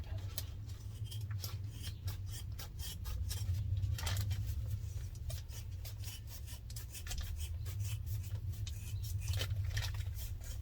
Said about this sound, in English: Trim down the seam allowance after you check that there's no holes